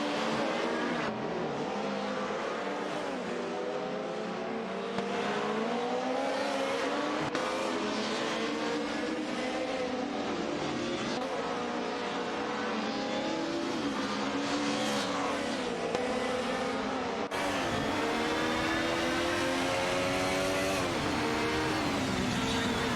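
Race cars in an AI-driven racing video game roar continuously, several engines overlapping with rising and falling revs as they battle for position, loud and dense throughout.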